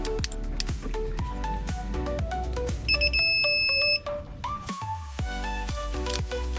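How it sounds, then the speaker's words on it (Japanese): A torque wrench set to 35 newton-metres sounds a warning as it reaches torque during a Jimny Nomad oil change: steady high electronic beeping tones ring out clearly over a repeating mechanical background, with no talk. "35ニュートンに達すると警戒音が出ます。"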